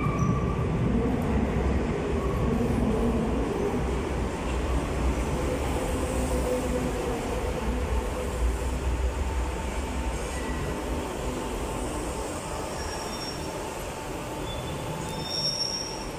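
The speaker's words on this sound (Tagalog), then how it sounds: "Andiyan na yung train namin." A train pulls into a station with steady loud rumbling and rising wheel squeal, with no talking over it.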